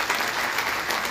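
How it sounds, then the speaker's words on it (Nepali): Audience applause at a ministerial address for International Women's Day, a steady dense wash of clapping from a crowd, held at even loudness for the whole short stretch with no voices over it. "मान अफिसरलाई एकपल्ट जोड्दा ताली"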